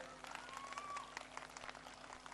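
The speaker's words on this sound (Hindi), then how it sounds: "मैं चाहूँगा कि एक बार ज़ोरदार तालियां" A school annual day audience at Hermosa Vista applauds, a dense, steady patter of many hands clapping together, faint and distant throughout.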